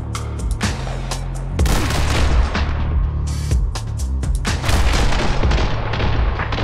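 Repeated booming shotgun blasts from the Hong Kong Massacre shooter game, loud and closely spaced with heavy low thuds over a constant backdrop of gunfire.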